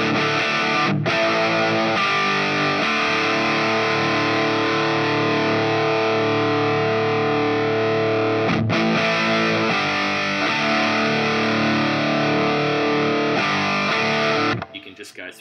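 Electric guitar played through a Line 6 Helix on a Marshall-type amp preset with impulse responses: loud, heavily distorted sustained chords ringing continuously, with brief breaks between changes before cutting off.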